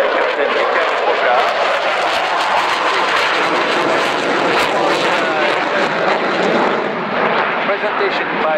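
A French Air Force Rafale jet performs a flying display at an airshow, its loud, broad engine roar sustained and steady throughout, with a faint public-address voice underneath.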